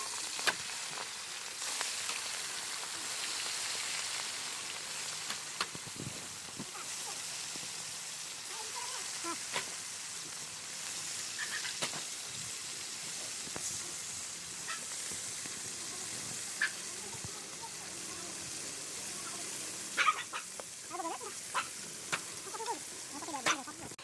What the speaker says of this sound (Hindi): अब इसमें कटी हुई फिश को फ्राई करेंगे।